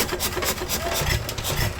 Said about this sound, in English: it's a saw.